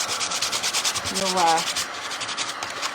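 Sandpaper rubbed over dried milk paint to distress and chip it, a quick series of close, rhythmic scratchy strokes with a brief squeak in the middle.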